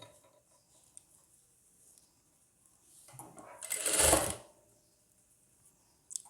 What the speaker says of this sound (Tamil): ஃபஸ்ட்டு இதில் ஒரு தையல் கொடுத்துக்கலாம்.